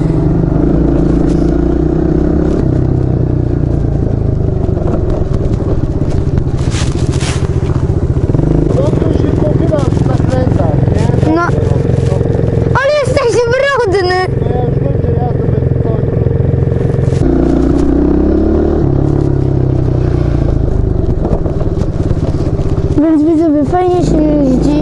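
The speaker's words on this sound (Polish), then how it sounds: "Bardzo fajnie się na kładzie właśnie jeździ." A Kayo 110 quad bike engine drones steadily and loud throughout, with occasional revving swells and clatter, while a voice speaks over the engine noise.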